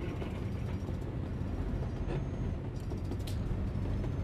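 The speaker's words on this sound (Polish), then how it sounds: "ale pociąg jedzie chyba." A train rumbles past in Euro Truck Simulator 2, a continuous low rolling drone that holds steady and is heard alone.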